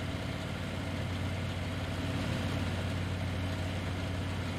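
Steady low engine idle from a farm vehicle in the farming game Landwirtschafts-Simulator 19 (Farming Simulator 19), a constant moderate rumble with no breaks and no talk.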